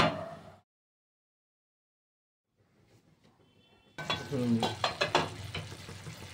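Bhola fish sizzles in mustard paste in a pan. The first moment is brief and noisy, then there is a long near-silence with faint clinks, and then loud, crackling frying bursts in close and keeps going.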